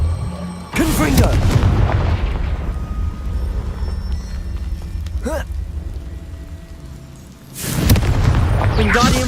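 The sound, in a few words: Confringo blasting curse explosion in Hogwarts Legacy video game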